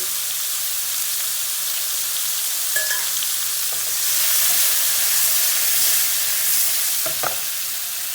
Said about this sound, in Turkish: Şimdi bu yağımız çok sıcak olduğundan dolayı mantar attığımızda sıçrama yapar.